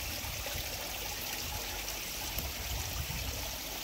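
Water runs continuously through an entrance water feature at a homestay in Ubud, Bali, a steady bright splashing and trickling that stays even and close with no voices.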